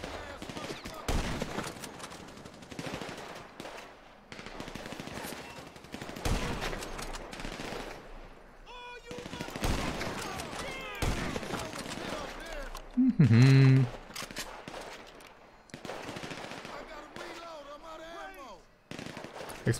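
Video game gunfire from GTA V, with scattered shots and bursts popping through a busy mix while someone talks over it in German, plus one loud close blast near the middle.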